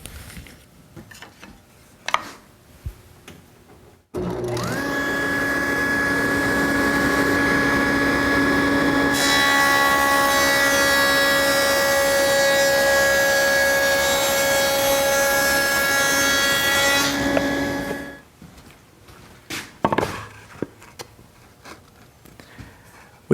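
A table saw fitted with a Freud dado blade spins up and cuts a rabbet in wood, a loud sustained whine that thickens midway as the stack bites, then stops abruptly, with quieter handling clatter before and after.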